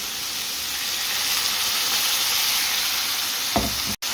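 Prawns and base gravy sizzle steadily in a balti pan during an authentic Birmingham balti cook, a close, even hiss ending with a couple of brief stirring knocks.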